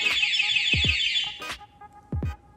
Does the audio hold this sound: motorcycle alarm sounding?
yes